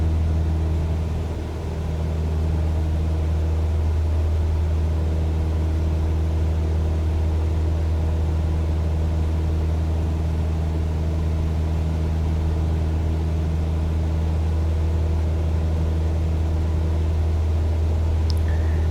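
Cessna 172 piston engine in a flight simulator, a steady, continuous low drone holding at an even level throughout, alone without talk, with a faint brief tone near the end.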